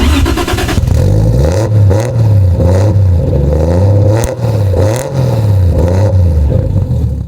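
Loud, close engine of a tuned 500 hp Toyota Cresta revving repeatedly, rising and falling in rhythmic surges with a throaty growl.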